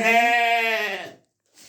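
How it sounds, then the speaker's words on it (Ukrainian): A single loud, drawn-out sheep bleat with a strong nasal tone lasts about a second, followed by silence and a faint start of another sound. "Такі мої вівці."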